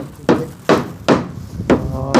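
Hammer blows from carpenters fitting the walls of a house under construction: five sharp, evenly spaced strikes, close and loud, with no talking.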